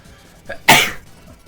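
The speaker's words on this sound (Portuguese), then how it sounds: "Peraí, vou espirrar." A single sharp sneeze, close and loud, preceded by a brief intake of breath, with quiet surroundings otherwise.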